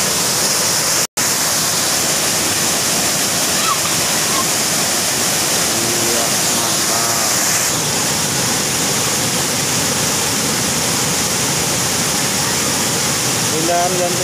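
Jantur Sengkulai waterfall in the Linggang Mapan area makes a steady, loud, broadband roar of falling water that runs unbroken throughout, with faint voices briefly audible beneath it.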